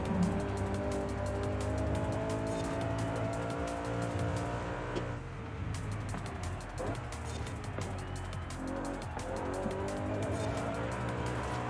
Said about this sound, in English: Your tires spin out.